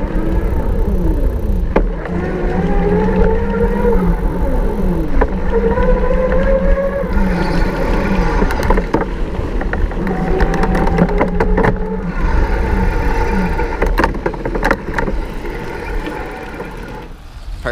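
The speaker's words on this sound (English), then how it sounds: "So from here you should be able to hear that motor and just kind of see it interacting." Motor on a Junto Gen 1 electric city bike under way, giving a steady whining hum with rising and falling tones against continuous road and wind noise.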